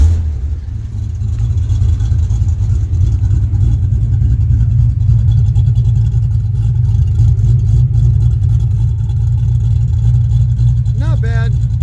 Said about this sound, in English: Let's see what she sounds like now.